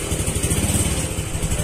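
A carbureted motorcycle engine, kicked into life during carburetor tuning, runs steadily at a rough, loud idle close by.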